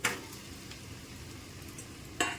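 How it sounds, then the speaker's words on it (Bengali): Fried mixed vegetables tipped into a frying pan for a Bengali niramish dish: a soft continuous sizzle with a clatter at the start and another near the end as pieces drop in, no talk. "এবার আমি ভেজে রাখা যে সবজিগুলো রেখেছিলাম এটাও অ্যাড করে দিচ্ছি"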